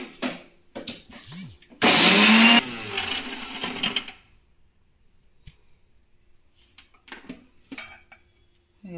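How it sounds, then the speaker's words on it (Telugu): A kitchen mixer grinder whirs loudly and briefly as it blends green chillies with a little ginger, a short burst framed by clinks of the jar and utensils and a few quiet sounds before and after. "పచ్చిమిర్చి కొద్దిగా అల్లం రెండు కలిపి ఫస్ట్ మిక్సీ వేసేది."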